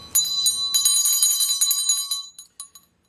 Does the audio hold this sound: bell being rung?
yes